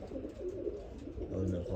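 Pigeons in a loft coo in low, soft, repeated murmurs that swell toward the end of the short stretch, with faint background noise around them.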